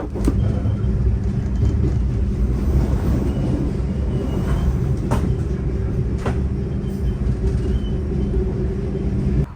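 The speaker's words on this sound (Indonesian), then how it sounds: "Ini baru pertama kalinya aku ngonten naik kereta" Steady low rumble and rhythmic clatter inside a moving Argo Bromo Anggrek luxury passenger train from Jakarta Gambir station, continuous throughout with occasional faint clicks of track joints.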